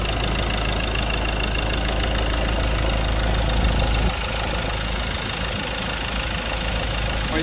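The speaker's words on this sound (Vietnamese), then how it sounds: "và đây là tiếng động cơ đang hoạt động, toàn bộ động cơ chạy khá là êm." A 2.2-litre diesel engine in a 2020 Ford Ranger XLS pickup idles steadily with a low, even rumble and light knocking, dropping slightly in pitch partway through; no voices.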